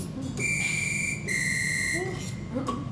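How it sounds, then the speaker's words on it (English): A synthesized whistle tone from a Yamaha EZ220 electronic keyboard sounds twice, two sustained shrill pitches held about a second each, with faint speech underneath and a brief chirp near the end. "There's a whistle. A whistle."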